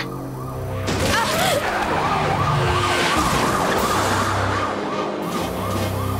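A wailing ambulance siren in the animated series Code Lyoko cycles continuously over heavy vehicle rumble, loud and close throughout, with no voices.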